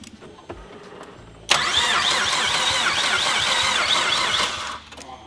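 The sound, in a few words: car engine cranking while the throttle is pumped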